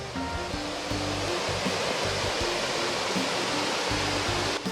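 Saeng Chan waterfall in Ubon Ratchathani, its water plunging through a rock hole, makes a loud, steady rushing roar from close by, with no voices.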